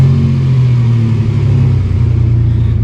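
A 1992 GMC Sonoma GT pickup with a 4.3 CPI engine and an idle surge issue runs steadily nearby, a loud continuous low rumble with a slight rise and dip, with no talking.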